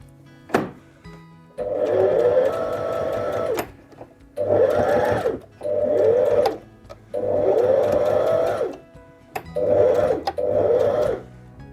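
A sewing machine stitching pajama fabric runs in several bursts of steady whirring and needle clatter, each a second or two long, separated by brief pauses and small clicks, close and moderately loud.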